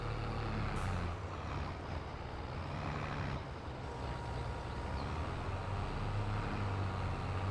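A tractor driving in Farming Simulator 22, a steady low engine drone with rumbling road noise held at a constant level throughout, no talking over it.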